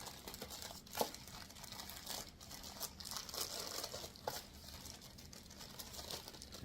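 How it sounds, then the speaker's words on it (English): A plastic bag holding parts for an Amazon Basics natural wood kids' table and chair set is opened by hand, giving quiet crinkling and crumpling with a few sharper rustles, close and alone, with no talk. "First we are going to open a bag of parts"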